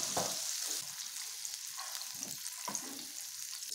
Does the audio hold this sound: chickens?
no